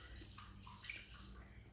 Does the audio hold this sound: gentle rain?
no